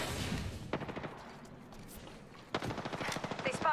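Rapid automatic gunfire rattles in the video game Apex Legends in two close bursts of fast, evenly spaced shots with a short lull between them.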